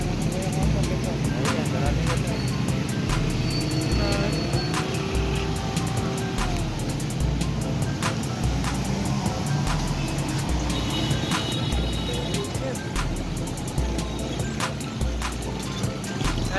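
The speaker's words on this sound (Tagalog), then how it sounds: "Traffic." Road traffic streams past on a busy street in Dau, Mabalacat, Pampanga, a steady loud roar of engines and tires with occasional horn-like tones and clicks, continuous throughout.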